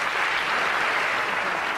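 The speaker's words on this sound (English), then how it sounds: "Let's give him a nice big round of applause" A studio audience at a television show breaks into a brief, steady burst of applause, dense and sustained from a large crowd, with no voices over it.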